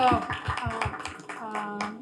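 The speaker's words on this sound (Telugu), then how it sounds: "applaud please do clap" An audience claps at a speech event, a brisk, even run of claps close by under a talking voice, thinning out toward the end.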